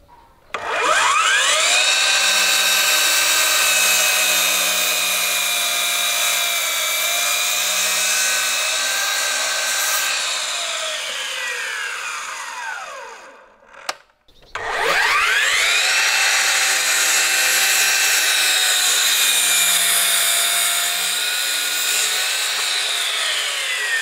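A Bosch GCM18V cordless miter saw cutting timber through knots makes a loud, close, high-pitched whining cut that lasts about twelve seconds, drops out briefly, then starts again with a second long cut.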